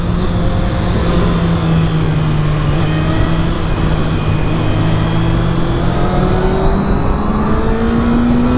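A 2025 Kawasaki ZX6R motorcycle at speed on the freeway, its engine a loud, steady high-pitched drone with wind rush, pitch slowly rising and falling through the throttle.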